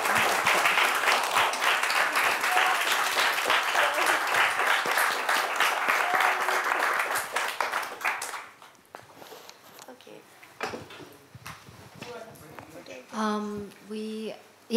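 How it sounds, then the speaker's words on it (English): Audience applauds at an art curators' event, a loud sustained wash of clapping that fades after several seconds, followed by scattered claps, shuffling and talk. "I think a round of applause."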